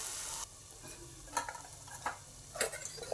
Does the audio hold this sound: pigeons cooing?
no